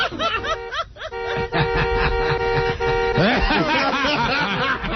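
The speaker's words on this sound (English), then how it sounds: "Every time I squeeze, Fred plays the horn honk." A horn toots in short bursts amid giggling and chuckling voices, the honks close and fairly loud.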